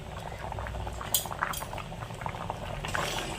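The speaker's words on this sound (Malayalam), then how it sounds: "ഇതൊന്ന് നന്നായിട്ടൊന്ന് തിളച്ച് കുറുകി വരട്ടെ" Thick Vishu kanji, a rice porridge with ghee, bubbles in a pot on the stove with a steady low simmer, plopping bursts and a few faint utensil clinks, heard close up with no voices.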